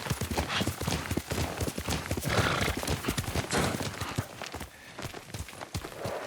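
Hooves clatter in a fast galloping rhythm, close and loud, with a horse's whinny breaking through the pounding beats, in the video game Ghost of Tsushima.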